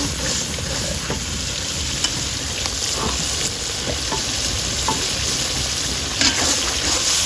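Beef masala for a slow-cooked bhuna sizzles and crackles steadily in hot oil, with occasional scraping stir strokes cutting through a dense, continuous frying hiss that stays close and loud throughout, no voices.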